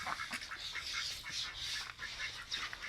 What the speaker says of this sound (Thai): เป็ดหัวจุกครับเป็ดหัวจุก